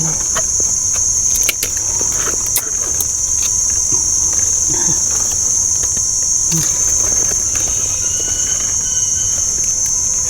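Dense, steady cricket and insect chirring in an abandoned overgrown nature garden, a loud continuous high trill with scattered rustles and small knocks nearby, no talk.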